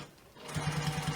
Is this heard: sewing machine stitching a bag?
yes